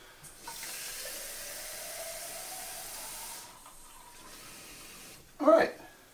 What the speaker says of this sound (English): fill it to the fill line with cool water